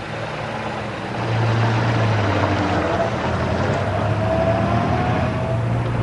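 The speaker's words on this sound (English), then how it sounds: "It's time for me to drive the Hupmobile and see what all the fuss was about." A 1925 Hupmobile with a 4-litre straight-eight engine drives along, a steady low engine drone that rises a little in pitch and loudness after the first second and keeps running evenly throughout.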